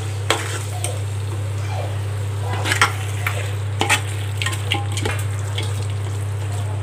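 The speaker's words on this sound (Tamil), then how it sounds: "இப்போ நல்லா கறி வந்து நல்லா வதக்கி வந்து நல்லா மசால் பிடிக்கிற அளவுக்கு" About 1.5 kg of turmeric-washed mutton sautés in masala for dum biryani: a steady sizzle over a low stove hum, broken by occasional spoon scrapes and clinks, with no talk.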